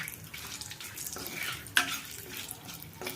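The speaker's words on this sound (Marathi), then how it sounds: "आता हे मसाले थोडे तेलामध्ये परतवून घ्यायचे आपल्याला।" Whole spices, including peppercorns, sautéing in oil in a pan for a homemade shev bhaji. The sizzle is soft and steady, with gentle stirring scrapes and one sharp clink partway through.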